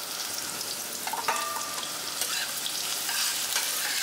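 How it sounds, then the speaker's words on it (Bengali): Onions fry in a pan for a raw banana curry, a loud continuous sizzle with a few scraping stirs and clinks of a spatula partway through, with no talking. "এবার পেঁয়াজটাকে আমার এখানে একটু খুব ভালো করে ভেজে নিতে হবে"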